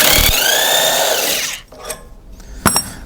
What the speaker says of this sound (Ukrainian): Я просто беру гайкокрут і просто відкручую.